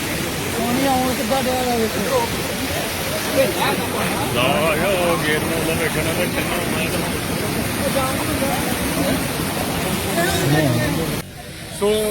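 Ravi river water roars through a breached Dhussi embankment near Chandu Vadala and floods the fields, a loud, steady rushing wash running the whole time with voices faintly over it.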